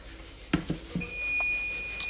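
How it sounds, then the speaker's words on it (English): A kitchen timer for cooking meat sounds as a steady electronic high-pitched tone, heard after a few clattering knocks of kitchen noise, fairly clear, with no talk. "Oh, there's our timer for the meat."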